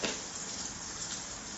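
A watermelon dosa sizzling in a hot pan just after being flipped, a soft, even frying hiss that holds steady at a low level with no voices.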